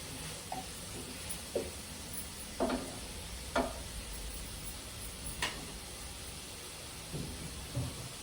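Onions frying in a pan for a crab curry, a faint soft sizzle with a handful of light spatula taps and scrapes scattered throughout.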